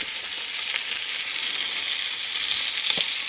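Whole grain mustard fries in a pan with a steady, close hiss and crackle that holds evenly throughout, a few sharper pops near the end.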